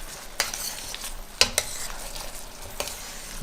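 Honey garlic shrimp with fresh parsley and basil frying in a pan, a soft steady sizzle under sharp scraping and tapping of a utensil against the pan, with no voices.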